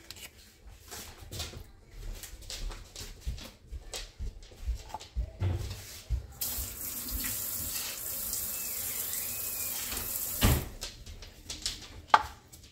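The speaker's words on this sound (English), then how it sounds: "Put some water in there." Tap water pouring into a pot while thinning a Tex-Mex sauce in a home kitchen, a steady hissing stream that starts after some clattering and knocks and runs for several seconds.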